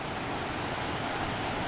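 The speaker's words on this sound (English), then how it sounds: "It's just lovely along this beck. You've got numerous little waterfalls" A beck in the Lake District tumbles over numerous little waterfalls, giving a steady, close, full rushing of water with no voices.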